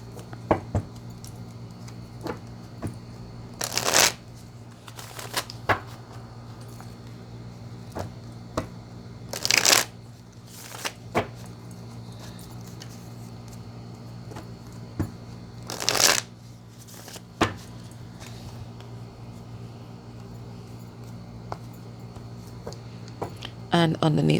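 Oracle of the Radiant Sun cards are shuffled by hand in soft, repeated riffles and riffling bursts close by, with a few sharper snaps, over a quiet steady hum.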